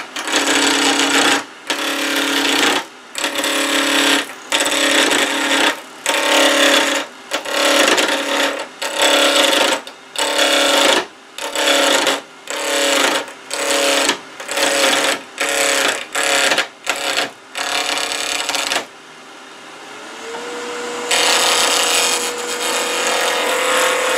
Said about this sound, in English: Now I'm going to take a series of planing cuts.